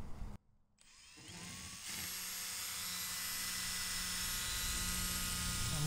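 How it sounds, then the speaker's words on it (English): Power drill boring bolt holes through the metal body of a RAM ProMaster 2500 van for a 30-amp shore power inlet, a steady high whine that climbs slightly and keeps going after a brief pause at the start. "we're just going to drill straight through"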